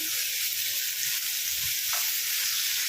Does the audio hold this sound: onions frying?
yes